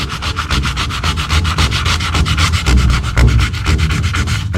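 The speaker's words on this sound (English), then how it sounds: "so we actually have to sand these cracks" Steady rhythmic sanding of cracked car paint down through the primer to bare metal, even back-and-forth scraping strokes, close and fairly loud, with no talking over it.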